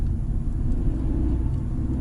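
A Fiat Egea Cross with a 1.4 engine pulls uphill in third gear at low revs, giving a steady, close, deep engine rumble inside the car with no talk.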